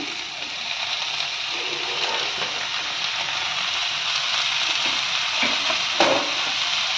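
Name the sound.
tomatoes frying in pan with onion and green chillies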